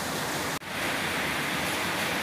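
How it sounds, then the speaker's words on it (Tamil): Steady heavy rain falls outside as a dense, even hiss that fills the whole moment, broken only by a split-second dropout early on, with no voices. "இப்போ வீடியோவில் மழை வர சத்தம் கேட்டுட்ருக்கோம்."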